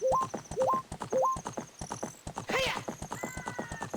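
Hoofbeats of a horse ridden in The Legend of Zelda: Ocarina of Time, a steady clip-clop rhythm with short whinny-like chirps early on and a brief burst of game effects midway, fairly close and clear.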